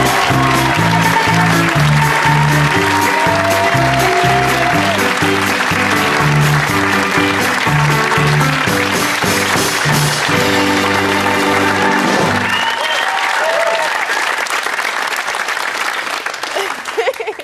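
A television chat-show studio audience cheers and applauds loudly, at first under band music and then as a sustained roar on its own, with voices mixed in.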